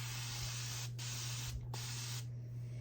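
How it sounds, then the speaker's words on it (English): A Tangle Teezer spray bottle releasing several fine mist sprays, each a steady close hiss lasting about half a second with short gaps, over a low constant hum. "I love this spray bottle"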